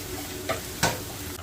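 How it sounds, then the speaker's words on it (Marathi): Ground masala paste is sautéed and stirred in a pan. A soft, steady sizzle runs throughout, broken by two brief scraping strokes of the spoon. It is close and quiet, with no voices. "वाटण केलेलं घालते एक मिनिटभर वाटण परतून घ्यायचं आहे"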